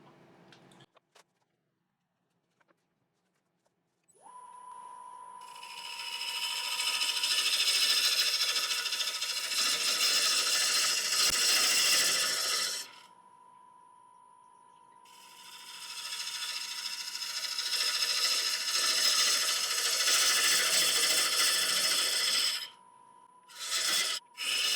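A wood lathe spins a cracked, spalted beech blank with a steady hum, and the cutting tool rasps loudly against the wood in two long passes, separated by a quieter stretch of the motor running.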